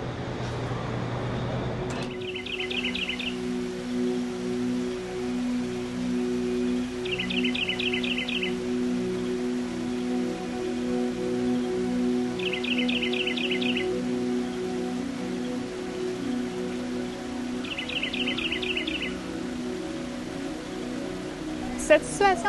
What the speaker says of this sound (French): On entend des oiseaux, de l'eau qui coule